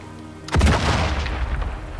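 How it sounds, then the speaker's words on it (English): A grenade goes off in Sniper Elite 5, one loud, close boom with a heavy low thud, then a long rumbling tail of debris and reverb that stays strong to the end. "Just throwing a grenade."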